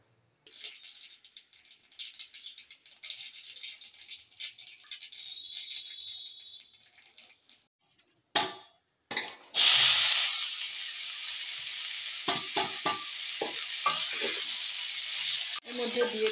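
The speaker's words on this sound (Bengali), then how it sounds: "তেলটা গরম হয়ে গেছে, এবার আমি ফোড়নে দিচ্ছি সর্ষে আর শুকনো লঙ্কা" Mustard seeds and dried red chillies dropped into hot mustard oil in a kadai, giving a crackling sizzle with sharp pops, then a louder burst of hiss that keeps sputtering close by.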